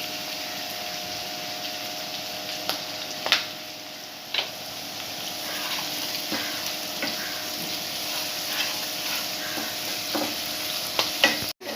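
Onions, ginger and garlic sauté in a pan for a fish curry, giving a steady soft sizzle with a few light stirring clicks and scrapes throughout, no talking.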